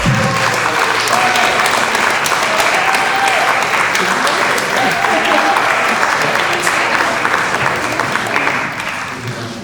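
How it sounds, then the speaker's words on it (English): Sustained, loud applause from the audience at an art and motherhood panel, a thick wash of clapping with faint voices mixed in that holds steady and then tapers slightly near the end. "big round of applause"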